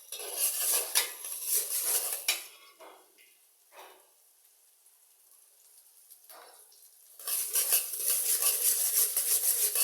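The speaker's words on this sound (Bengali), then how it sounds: "ভালোভাবে পেঁয়াজটাকে ভাজবো" Onions fry in a pan for a meat dish, a bright sizzle with clinks and scrapes of a utensil on the pan, fading to near quiet in the middle before the loud frying returns.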